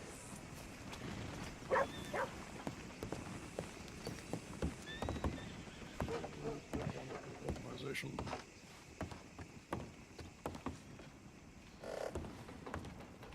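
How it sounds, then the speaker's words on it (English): Horses clip-clop and snort nearby in a ranch roleplay video game, with occasional whinnies and footsteps, under intermittent talking. "Mr. Sturgis, I'm just gonna give these horses some water"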